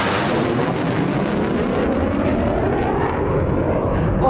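A low-flying aircraft passes overhead above the Helvellyn range in the Lake District fells, a deafening, continuous broadband roar that stays loud throughout the short stretch with no talk.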